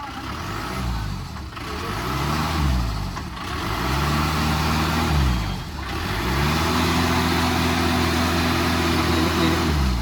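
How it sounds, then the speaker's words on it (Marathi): Car stuck in the ground near a fort, its engine revving hard in repeated rising and falling surges while one tyre spins, loud and close, with a brief dip between pushes. "एक टायर फिर रहा है"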